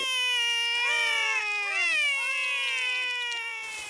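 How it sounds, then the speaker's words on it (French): Cartoon kittens meow in a string of high, drawn-out, rising and falling cries, several overlapping calls close and clear with no talking. "Ces deux chatons-là sont Oli et Fleur"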